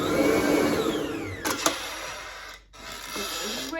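A Kenwood stand mixer whirs loudly as it beats Christmas cake mixture, then slows and cuts out briefly before starting up again with a fainter hum.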